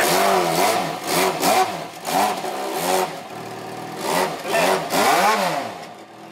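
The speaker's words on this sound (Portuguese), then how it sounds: "Renato, acelera agora" Jaguar XJ6 engine revving repeatedly, loud and close, in rising and falling bursts over a steady idle, with an improvised bubble experiment on the exhaust.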